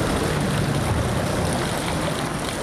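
Floodwater rushes through the walls of a flooded underpass near Treviso, making a loud, steady roar of flowing water with no pauses and no voices.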